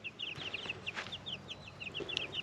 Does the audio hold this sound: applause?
no